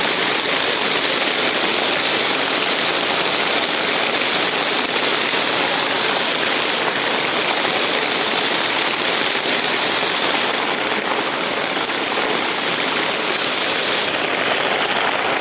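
Heavy, steady rain pours down in Bicol province, a dense continuous hiss on surfaces along a roadside, loud and unbroken throughout with no talking.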